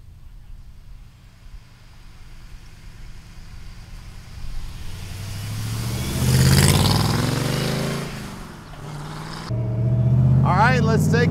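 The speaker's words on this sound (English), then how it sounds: "let's take this Cobra for a ride. Factory 5 small block" Factory 5 Shelby Cobra replica with a small block engine, idling low and then building into louder revs around the middle and again toward the end, close by, with voices talking over parts of it.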